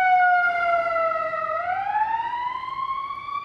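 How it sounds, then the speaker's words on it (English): A police car or ambulance siren wails on a Chicago street, one loud sweeping tone that dips and rises again as the vehicle goes by, with no talk over it. "I've seen two police cars, one ambulance kind of go by"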